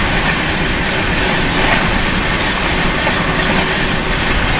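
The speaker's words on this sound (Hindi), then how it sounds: "ये गई आप लोगों की कोलकाता जम्मू तवी एक्सप्रेस।" The Kolkata–Jammu Tawi Express roars past close by in a dense, loud, continuous rush of wheel and carriage noise, with no talk.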